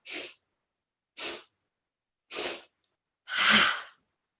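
Four sharp, breathy bursts, evenly spaced: quick forceful inhales during a breathing meditation, the last one longer and fuller, a strong exhale with a 'ha', with no talking.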